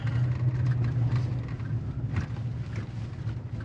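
A 2022 GMC Sierra 1500 Denali Ultimate on 22-inch wheels, in four-wheel drive auto, driving fast off-road, giving a continuous low engine and road rumble with wind buffeting, close and steady, with no talk.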